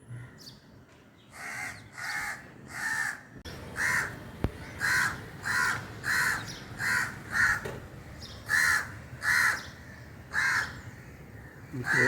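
A crow guarding its nest holding two eggs caws repeatedly and loudly, giving a long series of harsh, evenly spaced calls close by, with a brief pause near the start and a sharp knock partway through.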